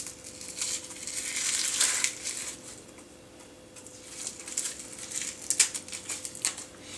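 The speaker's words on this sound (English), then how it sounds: "Just take your knife and go under the skin and peel away the onion skin." Knife blade slipping under the papery skin of an onion half and peeling it away, a series of light crackling, crinkling scrapes and taps in bursts, fairly faint and close.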